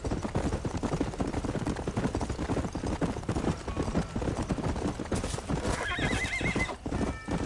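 A horse trots in Red Dead with rapid, steady hoofbeats, close and loud over outdoor game ambience, ending in a clear whinny near the end.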